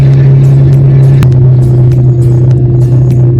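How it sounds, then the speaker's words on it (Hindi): Car engine labouring in first gear up a steep mountain road near Hanle, Ladakh, a loud, steady low drone with constant rumble filling the whole stretch, no talk. "पहले गियर में ही गाड़ी चढ़े जा रही है।"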